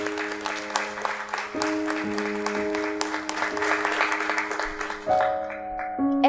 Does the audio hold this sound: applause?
yes